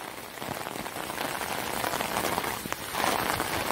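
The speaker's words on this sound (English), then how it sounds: "it looks like it's starting to pour down and rain again" Heavy rain pours steadily, a dense close hiss of drops drumming on a surface, continuous and loud with no voices.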